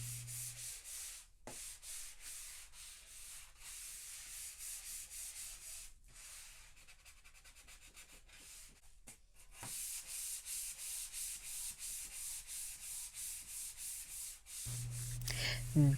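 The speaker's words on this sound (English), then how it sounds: "Sanding the wood allows us to check for any imperfections in the wood" Rhythmic back-and-forth scraping of sandpaper on a wooden stove cover, steady strokes up close, with a brief pause midway and a low hum at the end.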